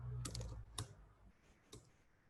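Keys on a computer keyboard are typed during a ProtoPie software workshop, a few distinct clicks spaced unevenly over a low background hum, close and fairly quiet.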